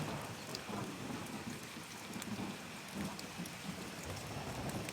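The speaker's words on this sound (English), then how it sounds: "Oh, there it is. There's the rain." Steady rain with low rumbling thunder in the fantasy online game Ultima Online, a continuous wash of falling rain with deep rolling swells underneath, no voices.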